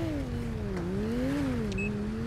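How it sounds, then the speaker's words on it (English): A Ferrari supercar in GTA 5 drives past with a steady engine drone that rises and falls in pitch, fairly close and continuous, with no talking over it. "was that a Ferrari?"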